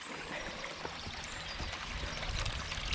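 Water runs steadily through a garden stream water feature past an old milk churn and a burnt log into a pool, a soft continuous rushing and trickling with no voices.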